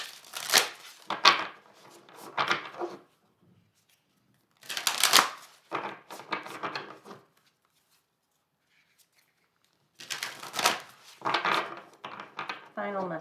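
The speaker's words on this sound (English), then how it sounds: "So I just want to shuffle these good because these stick together" Oracle cards from a Sacred Destiny Oracle deck are shuffled by hand in three clusters of brisk riffling and tapping, near and fairly loud, separated by quiet pauses.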